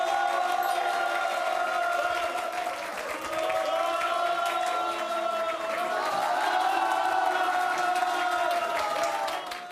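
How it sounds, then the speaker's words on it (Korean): An audience at a Catholic broadcast event claps and cheers steadily for about ten seconds as a priest from Dongsung High School is welcomed. Sustained tonal sound runs underneath the crowd noise. "박수로 맞아주세요."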